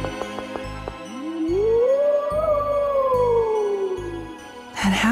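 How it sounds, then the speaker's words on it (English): A long, eerie monster howl from the video game Tales of Symphonia: Dawn of the New World rises and slowly falls over several seconds, loud and wailing above a low pulsing game background. "That howl again."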